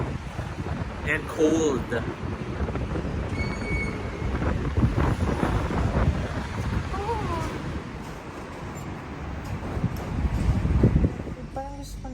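Strong wind buffets the microphone outdoors in Dubai as a continuous low rumble, with a person speaking briefly over it.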